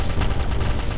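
Heavy ion cannons firing in Voidship: The Long Journey, a dense rapid burst of loud percussive blasts stacked over a heavy rumble, continuous through a short moment with no voices.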